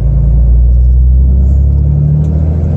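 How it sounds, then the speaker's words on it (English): A vehicle with a Southbend dual disc clutch lugging in fourth gear at low speed, a loud, close, steady low engine rumble with a faint juddering chatter running underneath. "I'm going too slow to be in fourth gear, so it's chattery"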